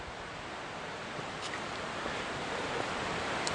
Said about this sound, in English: right beside this waterfall, this cascade